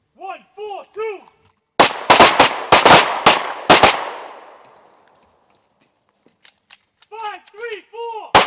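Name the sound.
Glock 23 pistol firing .40 Smith & Wesson rounds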